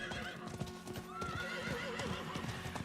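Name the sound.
horse hooves clip-clopping in the video game Diablo 4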